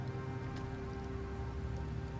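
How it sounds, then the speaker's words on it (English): Rain falls continuously in Septimont in the game Wuthering Waves, a quiet steady patter with a faint tonal hum running underneath and no voices. "The rains in Septimont never seem eager to leave this season."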